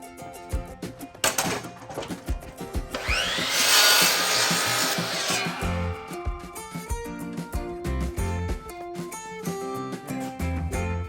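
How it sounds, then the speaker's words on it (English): A sawmill blade cuts a red cedar slab to size, a loud rising whine and rasp through the wood midway, framed by clattering, knocking handling noises before and after. "I'll throw this guy back on the sawmill and cut this to size"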